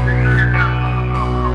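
A single clear whistled melody line carries over a sustained musical backing during a concert in Saint Vallier, close and fairly loud.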